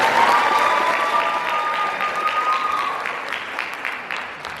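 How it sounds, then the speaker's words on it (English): A loud round of audience applause for Ms. Thompson at a Black History Month program, dense clapping that gradually tapers, with a faint sustained tone ringing through the first few seconds. "Would y'all give Ms. Thompson another round of applause"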